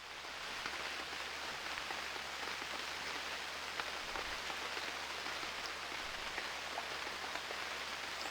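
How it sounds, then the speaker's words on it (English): Steady rain falls in the survival game UnReal World, a constant soft hiss of drops on surfaces with faint scattered pattering, even and unbroken throughout with no voices. "In the middle of the rain."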